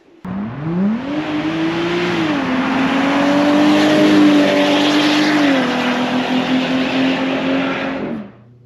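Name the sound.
supercharged Jeep Wrangler engine revving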